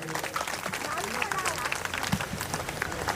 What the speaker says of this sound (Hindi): एक बार जोरदार तालियां हो जाए महाराज श्री के लिए।